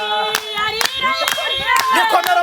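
A crowd gathered at a hillside religious meeting breaks into brisk applause, sharp overlapping claps rising and falling as a voice calls out and sings over them.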